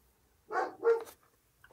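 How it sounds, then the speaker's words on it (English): An indoor dog lets out two quick close barks in a row, loud against an otherwise near-silent room, followed by quiet. "Excuse the dog, there's other animals outside right now."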